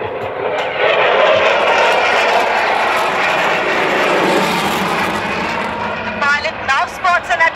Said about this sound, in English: as the aircraft carries out the hesitation drill